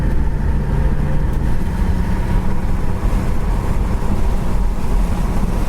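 A 1971 Ford Torino GT hardtop cruises down the highway, heard from inside with the window down as a dense, steady wash of wind rush and road noise over a low engine rumble.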